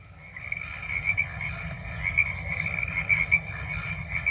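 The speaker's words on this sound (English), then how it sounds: "we live on the wetlands, and right now, oh my gosh, the frogs are so loud" A dense chorus of frogs croaks loudly and continuously across the wetlands, many overlapping calls close by with no talk over them.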